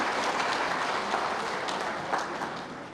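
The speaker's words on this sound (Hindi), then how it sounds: "दोनों हाथ ऊपर उठा के ताली बजा के मोदी जी का स्वागत कीजिए" A large outdoor political rally crowd in Jharkhand claps in a dense, sustained wash of applause, loud and even throughout with no pauses.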